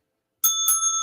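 A small bell rung twice in quick succession, bright metallic dings with a sustained ring, following a moment of silence, close and clear with no talking.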